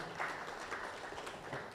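Brief applause from an audience at an annual cooperative movement stakeholders' conference, a soft, continuous patter of clapping hands with no voices over it.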